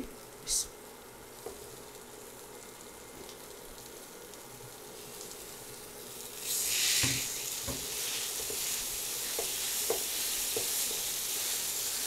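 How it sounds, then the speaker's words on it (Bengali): Onion and garlic hiss softly in an oily pan, then eggplant is added and the sizzle surges loudly, followed by a busier crackle and intermittent spoon scrapes and taps as the vegetables are stirred. "ভাজা হয়ে গেছে পেঁয়াজ আর রসুন সব কিছু ভাজা হয়ে গেছে এর থেকে আর ভাজবো না বেশি বেগুনটা দিয়ে দিচ্ছি"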